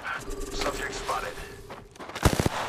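Gunfire in the video game Apex Legends: a quick cluster of sharp, loud shots near the end, following a stretch of game noise and voices talking.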